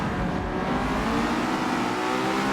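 A BMW M3 in a racing video game roars at high revs through a kink, a steady, loud, continuous engine drone with no talk over it.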